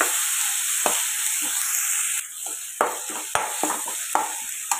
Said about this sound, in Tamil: இதெல்லாம் ஒன்றா மிக்ஸ் பண்ணி வதக்கலாம்